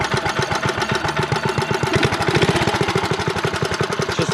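A small minibike engine idles low and steady with a rapid, even putter of firing pulses, loud and close, no talk over it.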